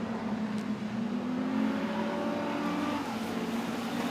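Street stock race cars lap Rockhampton Speedway, a steady roaring engine drone from the pack that swells slightly and holds at a constant level, heard from a distance with no talk.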